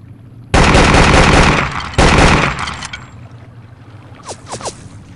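Gunfire in the video game Vietnam 2: Special Assignment: two loud, sustained bursts of automatic fire in quick succession, then a quieter stretch with a few faint reports.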